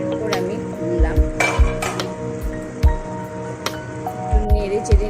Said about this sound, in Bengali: ঢাকা 15-20 মিনিট পর আমি খুললাম